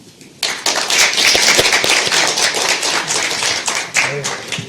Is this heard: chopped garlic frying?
no